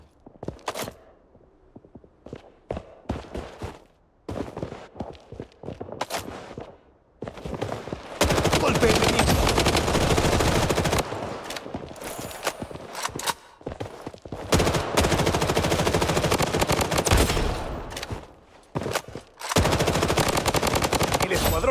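Sparse gunshots at first, then long loud bursts of rapid machine-gun fire with brief pauses in between, from combat in the video game Blood Strike.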